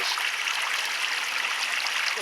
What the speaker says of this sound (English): the splash is quieted down. It ain't splashing near as much like it was